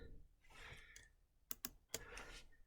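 Sharp clicks of a computer mouse, a few quick presses close together, heard at low level against faint room noise and breathing while working in a Canvas lesson page.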